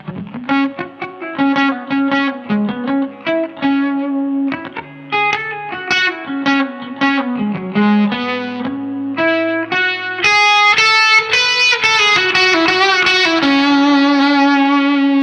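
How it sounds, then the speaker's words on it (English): Electric guitar picked lightly through a DanDrive distortion pedal, a steady run of melodic notes growing brighter and fuller near the end. "I want you to hear how this reacts to just some lighter picking"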